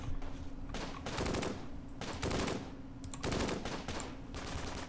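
Bursts of machine gun fire from the Close Combat: Gateway to Caen war game rattle out in repeated rapid volleys, several separate loud strings of shots over a constant low background rumble, with no voices.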